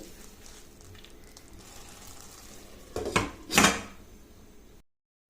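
A metal lid set onto a cooking pot of radish greens, two sharp clanks close together, the second ringing a little longer, after a quiet stretch of faint kitchen background.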